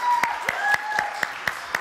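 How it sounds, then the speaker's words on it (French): Applause for a guest on a French entertainment show sounds as a few sharp, evenly spaced claps, about four per second, with a faint tonal sound and low murmur underneath. "je vous demande d'applaudir et de faire un triomphe à Janet Jackson"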